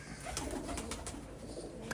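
Soft, low cooing of pigeons, steady and fairly near, with no talking.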